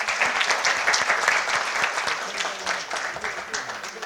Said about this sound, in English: I request everyone to kindly give a round of applause.